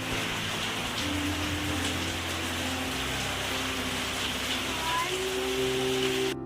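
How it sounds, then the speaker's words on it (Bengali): Rain falls steadily outdoors, a constant even hiss that fills the whole stretch, with faint tonal sounds in the background. "আকাশে বৃষ্টি নেমে গেছে তাই আরও একটু ওয়েট করতে হবে দেখবেন কীরকম বৃষ্টি হচ্ছে"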